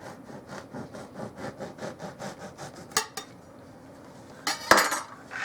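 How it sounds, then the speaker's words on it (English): A bread knife saws back and forth through a loaf of bread, about a dozen even rhythmic rasping strokes, then a couple of sharp knocks and clatters as the halves are set down on the board. "my bread knife is right here. All I'm going to do with this is I'm just going to cut it"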